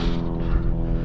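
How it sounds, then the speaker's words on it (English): A propeller airplane drones overhead above a trail, a loud, steady engine hum with a rich low tone that holds for the whole moment. "Oh, that's a plane."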